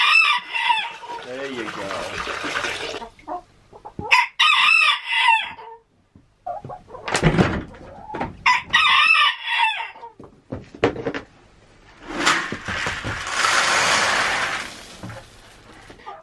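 A rooster crows several times in a barn with hay and straw bedding, loud and near, each crow a rising, drawn-out call with short gaps between. A person speaks briefly between the crows.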